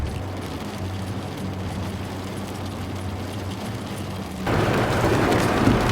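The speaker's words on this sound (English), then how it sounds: "It started to rain, we were getting lightning" Steady rain falls as a dense, even hiss during a stop in the Koppenberg Cycling Classic, with lightning nearby. The hiss grows louder and brighter near the end, and no one talks.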